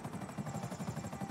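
A helicopter in the video game GTA Online flies with a steady, rhythmic rotor thump and engine drone, moderately loud and continuous, with no talking.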